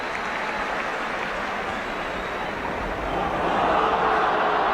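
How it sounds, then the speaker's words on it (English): Football crowd in a stadium at a 1980/81 Division One match between West Brom and Man Utd applauding after an offside call, a steady broad wash of clapping and crowd noise that swells louder toward the end. "but the crowd applaud nonetheless."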